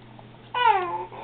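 A single short, falling meow from a cat rings out nearby against a quiet indoor background.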